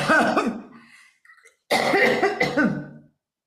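A person coughs repeatedly up close in two harsh bursts, with a brief quiet gap and a throat-clearing rasp between them.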